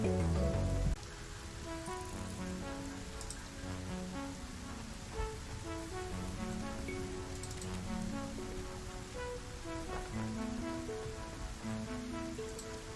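Steady rain pattering in the video game Satisfactory, a continuous hiss of drops over soft ambient game music, even and moderately quiet throughout.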